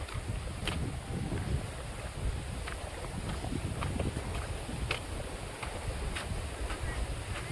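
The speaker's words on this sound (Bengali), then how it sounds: "এত সুন্দর ঢেউ হচ্ছে নদীতে, আর এই ছোট ছোট ডিঙি নৌকা।" Small wooden dinghy boats ride choppy river waves at the far Sundarbans edge of Bangladesh near the border, a steady broadband wash of water and wind buffeting the microphone, with faint knocks scattered throughout and no voices.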